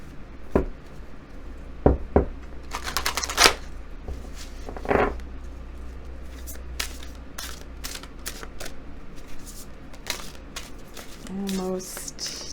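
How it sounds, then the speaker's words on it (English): A jumbo-size Rider-Waite tarot deck being shuffled by hand: repeated riffling card bursts and soft slaps spread across the stretch, close and moderately loud, with a brief voice near the end. "we will shuffle this huge deck, which is the jumbo size Rider-Waite or Rider-Waite-Smith"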